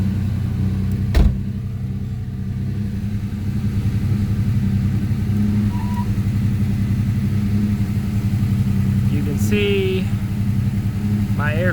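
A turbo V6 Mustang idles roughly and steadily up close, a low uneven engine drone running throughout with a brief knock near the start and faint chirps late on.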